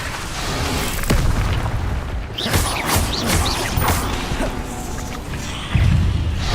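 Spell-casting effects from the video game Hogwarts Legacy: a loud run of magical booms, whooshes and crackling bursts follows in quick succession, ending with a heavy low impact.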